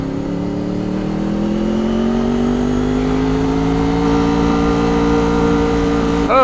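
A Honda VFR 800 VTEC motorcycle engine revs up steadily, its pitch climbing gradually over several seconds, loud and close with continuous wind noise.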